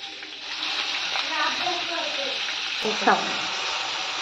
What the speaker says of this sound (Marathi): याच्यामध्ये आता वालपापडी आपण ती फ्राय करण्यासाठी टाकणार आहे।